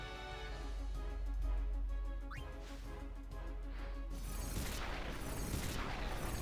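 In Final Fantasy X, a Fire Gem item is used in battle, setting off a deep booming blast with rumbling low end and crackling bursts that swell again toward the end, loud and alone.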